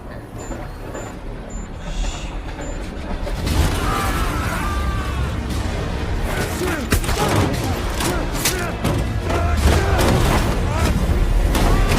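A film scene erupts with a heavy explosion followed by a dense, continuous barrage of gunfire and crashing debris, loud and chaotic, with a faint beeping before it and some voices.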